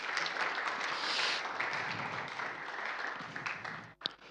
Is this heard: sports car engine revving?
no